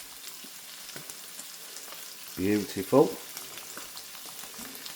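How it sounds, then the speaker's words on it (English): Boiled, patted-dry mushrooms frying in unsalted butter give a steady, soft sizzle throughout, briefly covered by a single spoken word partway through. "I'm cooking them in just unsalted butter"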